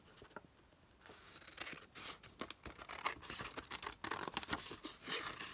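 Scissors cut down the edge of a paper bag for a DIY folio, making close, quiet crinkling snips and rustles in an uneven series.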